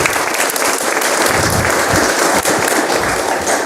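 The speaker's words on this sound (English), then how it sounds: "I appreciate everyone clapping" An audience at a school board meeting applauds, dense continuous clapping from many hands filling the room for a few seconds, with no speech over it.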